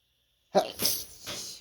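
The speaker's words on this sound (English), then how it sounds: "Sneeze again." A single stifled sneeze bursts out after a moment of silence, a close, muffled, breathy snort followed by a brief trailing exhale.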